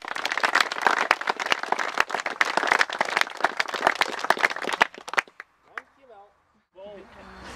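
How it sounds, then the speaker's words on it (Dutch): Crowd applause for the organiser of a Frisian kaatsen (handball) match in Tytsjerk, dense and sustained for about five seconds, then dying away into scattered claps and a voice speaking. "En ik vind dat wij beginnen met deze tijd met een liefst applaus voor Wim Joostma."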